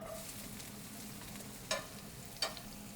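Onions, garlic, a little hot pepper and celery sizzle in a warm pan, a soft steady hiss with two brief sharp clatters as food hits the pan, faint and close, no talk.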